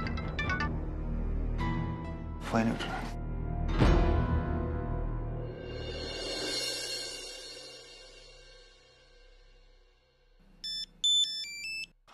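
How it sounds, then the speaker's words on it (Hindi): After a stretch of music fades out, a phone ringtone chimes a short electronic melody, bright and close, with a couple of repeating bursts. "हाँ सती जी, कही आपने फोन किया था, मैं थोड़ा बिजी थी इसलिए मैं उठा नहीं पाई"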